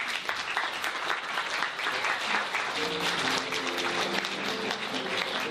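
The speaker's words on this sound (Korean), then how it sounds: "우리 박수로 환영해 주시죠." A congregation applauds in welcome at a church gathering, broad steady clapping from many hands that holds throughout, fairly quiet and distant, with faint tonal music rising underneath midway.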